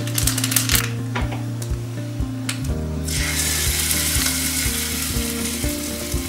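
Hot tempering with dry red chillies poured onto South Indian tomato onion chutney bursts into a loud, steady sizzle midway, following a stretch of quieter crackling with sharp intermittent ticks.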